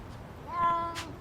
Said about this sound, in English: Come on, cats.